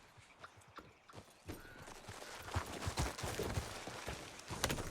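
Horse hooves clip-clop at a steady walking rhythm in Red Dead Redemption 2, fairly close and moderately loud, with occasional rustle and creak around the steps.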